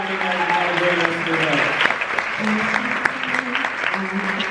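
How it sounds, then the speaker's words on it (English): Festival audience applauding after an LGBT screening Q&A, a steady wash of dense clapping throughout with a voice talking over it. "All right, let's give them all a round of applause."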